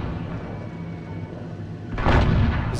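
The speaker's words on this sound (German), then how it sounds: "ich schieße auf die Häuserecke" A single heavy tank cannon shot from the French AMX AC Mle. 1946 tank destroyer in World of Tanks, a sudden loud boom after a quieter engine-like rumble, with no talking.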